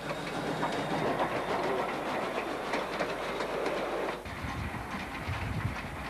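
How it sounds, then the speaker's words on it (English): A Cockle Train heritage service on the Steam Ranger line between Victor Harbour and Goolwa on Lake Alexandrina, running along the coastal foreshore. Carriages rumble steadily with a rhythmic clickety-clack of wheels on rails, heard close and continuous, easing slightly near the end. "The Cockle train, another one of Steam Ranger's services, does a short return trip from Victor Harbour to Goolwa on Lake Alexandrina."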